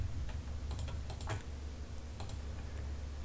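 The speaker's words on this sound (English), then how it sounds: "So just type in MA." Keys on a computer keyboard are tapped in a few quick, clicky strokes over a steady low background hum, with no talking.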